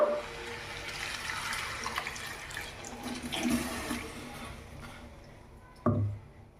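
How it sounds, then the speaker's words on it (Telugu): Water poured into a pot of Andhra-style naatu kodi (country chicken) curry being cooked, a steady splashing pour that fades, then a brief louder splash or clatter near the end, with no talking. "వాటర్ పోసుకుందాం."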